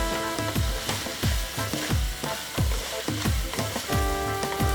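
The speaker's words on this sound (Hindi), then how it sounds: "अब ये इसके साथ ही हम हरी मिर्च को भी फ्राई करेंगे।" Chopped green chillies fry with chicken in a pan for a Hakka chicken capsicum dish, sizzling steadily while a spatula knocks against the pan in a regular, repeating rhythm, close and clear with no talking.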